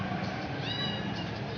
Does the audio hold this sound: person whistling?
no